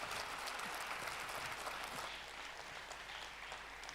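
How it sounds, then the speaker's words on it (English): Steady, dense applause from a crowd after an orchestra performance, sustained throughout and easing slightly toward the end. "So please give them a big round of applause."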